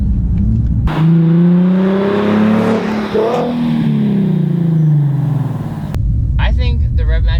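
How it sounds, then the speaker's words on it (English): Nissan 370Z sports package engine with automatic rev matching, loud and close, revving up and blipping through downshifts for about five seconds, with a voice speaking briefly before and after. "Another thing that the 370Z sports package has is the automatic rev matching."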